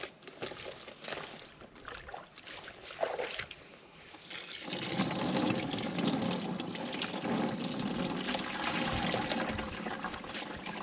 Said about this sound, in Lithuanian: Tai pilam vandenį